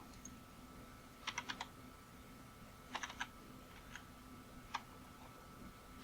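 A few short bursts of keystrokes on a computer keyboard, quick clusters of three or four crisp taps separated by pauses, faint and close in a quiet room.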